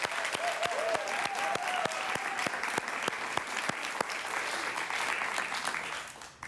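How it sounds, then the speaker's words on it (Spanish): A studio audience at a Spanish-language television talk show applauds: steady, dense clapping that carries on evenly for several seconds before easing off at the very end. "Un aplauso para él"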